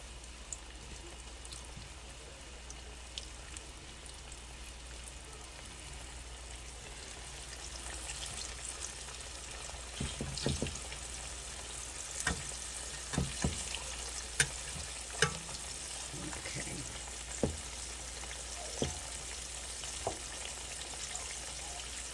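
Pork chops frying in a hot skillet, a constant close sizzle with scattered sharp pops and crackles that grow busier midway.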